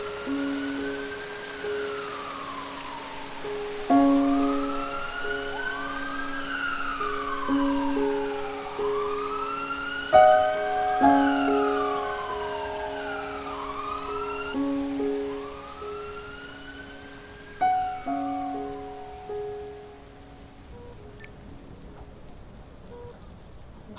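An ambulance siren wails in repeated rising and falling sweeps over a steady hiss of falling rain, the sweeps swelling and fading at moderate distance, with no voices.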